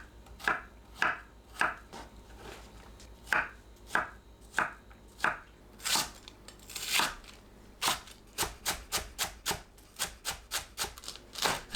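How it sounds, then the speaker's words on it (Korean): Onion, zucchini, green onion and Cheongyang chili being chopped small on a cutting board: a steady series of close knife knocks, at first evenly spaced and then quickening into faster runs, with no talking. "양파, 애호박, 파, 청양고추를 작게 썰어주세요"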